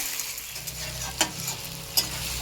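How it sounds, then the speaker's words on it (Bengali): Mutton pieces frying in a pan for mutton curry, a steady close sizzle with a couple of brief stirring scrapes and no talking. "মাংসগুলো দিয়ে একটু ভেজে নিয়েছি।"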